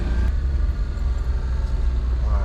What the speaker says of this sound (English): we should not be hammering this truck this hard, this early